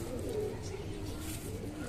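A female pigeon coos softly, close by and low, with the call running under someone speaking Hindi.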